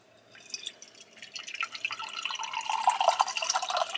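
Filtered water poured from a filter jug back into a glass, a light splashing trickle that builds steadily over a few seconds, close and fairly quiet.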